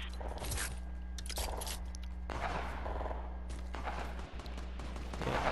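A gold minigun fires in Fortnite in several rapid, rattling bursts separated by short gaps, loud and close over a low steady game hum.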